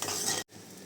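Crushed garlic stirred into chopped onions frying in oil for a beef tripe dish, a steady close sizzle and scraping with a brief cut to silence midway.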